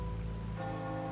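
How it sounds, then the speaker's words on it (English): Steady rain patters continuously in the video game Wuthering Waves, with soft sustained musical tones ringing beneath it. "rain's back."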